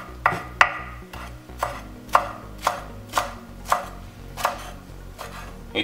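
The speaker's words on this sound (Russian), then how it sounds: "Укроп нарезаем мелко." Fresh dill being finely chopped with a knife on a board while preparing a zucchini dish, about ten crisp, evenly spaced blade strikes, close and clear with no talking.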